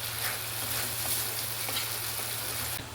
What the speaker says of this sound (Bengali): ভালো করে ভেজে নিতে হবে মশলাটাকে